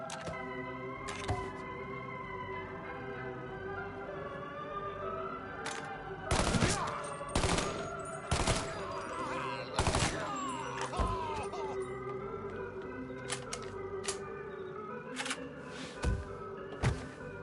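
Bursts of gunfire ring out in the video game Mafia 3, sharp scattered shots and short rapid volleys over a constant background score.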